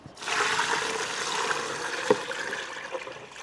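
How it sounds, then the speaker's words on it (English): Brine being poured over silverside in a container, a steady, fairly loud rush of liquid that runs for about three seconds with one small clink partway through. "I just have to pour the brine over it."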